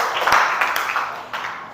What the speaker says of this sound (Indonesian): Coba berikan tepuk tangannya,